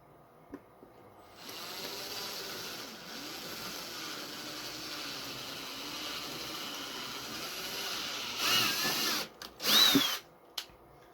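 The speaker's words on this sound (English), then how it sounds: "maybe I can fix it by drilling this one at a little angle" A power drill bores into plastic with a bit held at an angle, starting after a quiet moment, whining steadily and then surging in two louder bursts near the end.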